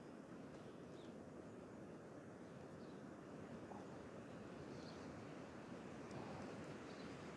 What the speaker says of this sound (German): das ist die Gischt, die jetzt so an die Felsen rangeht